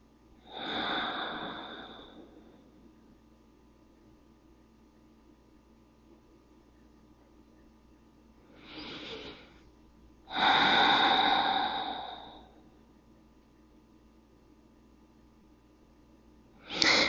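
Deep, full breaths during a gentle yoga stretch: a long close inhale, then after a pause a shorter breath, a longer one and a final sharp intake, each airy and noisy against quiet room tone.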